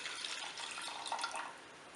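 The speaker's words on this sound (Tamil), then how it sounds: "இப்போ கொதிக்க ஆரம்பிச்சிருச்சு." Coconut milk thinned with water in a heavy-bottomed pot, made for fruit payasam, is just coming to a boil, with a soft, continuous bubbling hiss that is close and fairly quiet and has no voices over it.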